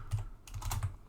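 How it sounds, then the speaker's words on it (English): Keystrokes on a computer keyboard during a computer organization lecture, a short run of soft irregular clicks and taps, close and moderately quiet, with no speech over them. "Having trouble typing today."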